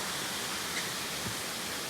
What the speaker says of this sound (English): We're just hanging out by the waterfall.